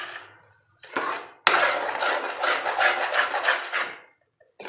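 Chana dal halwa being stirred and roasted with sugar in a pan, giving rough scraping and rasping of the spoon against the pan in bursts, with a brief pause, no talking.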